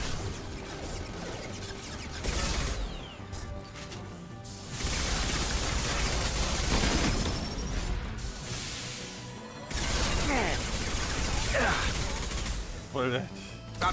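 Gunfire in Mass Effect 2 rattles in bursts of rapid shots and crashing impacts, broken by short lulls, with game dialogue and combat noise mixed throughout.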